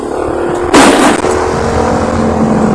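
A car speeds past loudly and close on Jalan Kalimantan near a swimming pool in Jakarta Timur, one sudden broadband whoosh over steady street traffic rumble.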